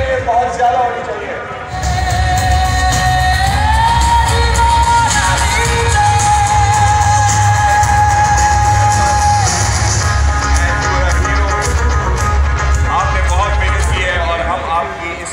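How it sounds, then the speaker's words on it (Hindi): A crowd at a cricket medal ceremony applauds and cheers at length, a steady loud wash of clapping with yells, while someone speaks over an amplified system and music plays underneath. "तालियां इन सब लोगों के लिए बहुत ज़्यादा होनी चाहिए"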